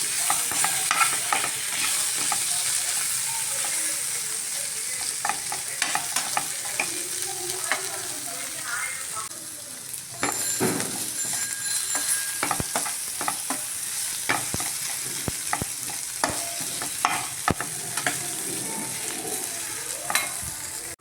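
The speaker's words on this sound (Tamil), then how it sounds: "உருளைக்கிழங்கு காய் பொட்டேட்டோ ஃப்ரை, உருளைக்கிழங்கு ஃப்ரை" Potatoes sizzling in hot oil in a pan as they are stirred, a steady crackling fry with frequent scraping and clinking of the spoon, close and continuous.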